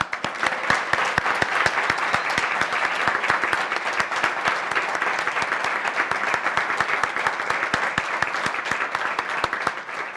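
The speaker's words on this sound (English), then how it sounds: "How about one more round of applause for all of our honorees today?" Sustained audience applause at a university school of music awards ceremony, a steady wash of many hands with sharp individual claps standing out, continuing evenly throughout.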